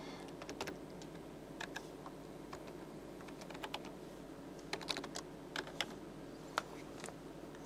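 Typing on a computer keyboard while filling in an online application form: soft, quick key clicks in irregular bursts, close but faint over a steady background hum.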